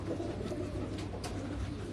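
Pigeons coo on a Karachi rooftop, soft low repeated coos over a quiet background hum, fairly close and alone without talk.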